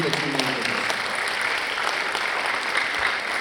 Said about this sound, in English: You should give yourselves a round of applause for all of the paintings that you made with us.